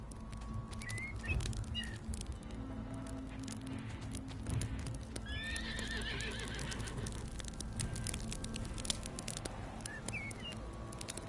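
The horse Windstorm gives a drawn-out whinny, joined by scattered hoof clops and faint bird chirps in an outdoor ranch scene, heard at moderate distance over a steady background hiss.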